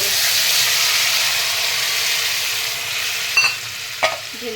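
Strained batter for chingri puti jugal bati churchuri poured into a hot pan, giving a loud, steady steamy sizzle that slowly eases, with two sharp clinks near the end.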